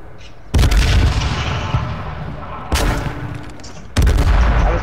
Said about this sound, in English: I'm throwing frag grenades at their ass.